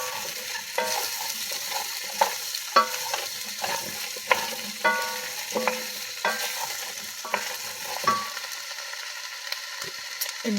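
Garlic sizzles in a hot pan, with a soft frying hiss under repeated close scrapes and taps of a utensil stirring against the pan.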